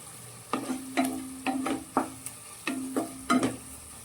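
Tomato gojju masala is stirred in a pan, with about eight rhythmic scraping strokes over a light sizzle, each one close and distinct, and no voices.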